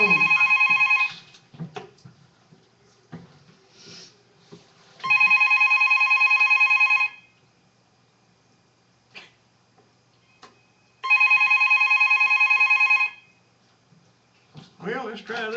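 A telephone rings in loud electronic bursts, three long ring cycles separated by pauses, with faint clatter and brief sounds between them and a voice entering at the very end.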